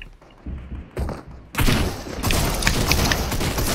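Gunfire in the video game Fortnite, a loud, dense run of overlapping shots and thuds that builds from scattered hits into a sustained barrage.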